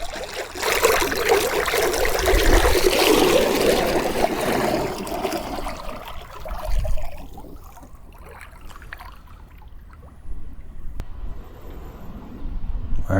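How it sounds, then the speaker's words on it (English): Water churns and gushes from the jets of an AIPER Seagull Pro robotic pool cleaner sitting in shallow pool water, a loud steady rush that fades to a softer trickle and burbling. "See those jets just pushing the water up out of there."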